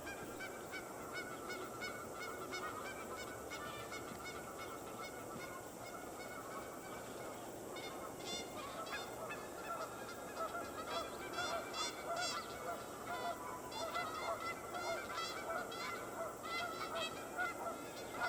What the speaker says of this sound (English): The goose couple chased their intruders away and trumpeted their victory.